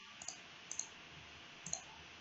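A computer mouse clicks three times at uneven intervals, quiet and close, against a faint steady hum.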